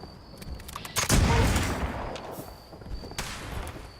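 The Dragon, a black powder legacy weapon in Fallout 76, fires one loud, booming shot with a long echoing tail, followed by quieter scattered clicks and a second fainter report.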